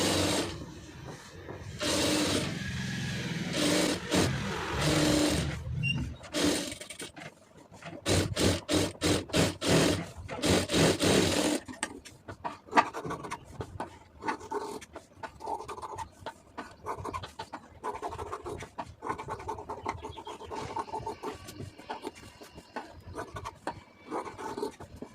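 A sewing machine stitches a lining piece, its fast mechanical whirr coming in loud bursts with short pauses, then settling into softer, irregular clicking and rattling of the needle and fabric.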